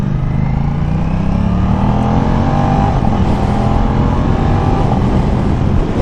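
An Aprilia RS660 motorcycle being ridden, its engine droning loudly and continuously with rising pitch sweeps as it pulls through quick-shifter gear changes, heavy wind rumble underneath.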